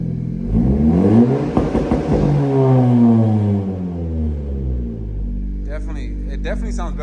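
A 10th-generation car with an Ark Performance exhaust and a wastegate revs hard, its rising and falling engine tones loud and close, followed by a burst of crackling exhaust pops near the end while a person talks over it.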